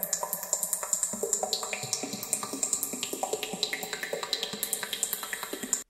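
Synth patch runs through an arpeggiator with dotted delay, producing a fast, even stream of short plucky notes with echoing repeats, steady and moderately quiet without talking.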